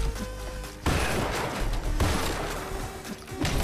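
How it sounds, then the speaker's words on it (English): Shotgun blasts in the video game Hypercharge Unboxed, a few loud, close booms with dense rattling game action in between. "This shotgun got a little bit more powerful."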